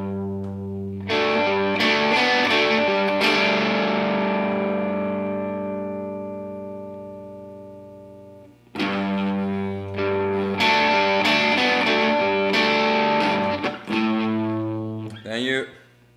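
An electric guitar picks out a melody with effects, notes ringing and slowly fading, then a second run of plucked notes after a brief pause.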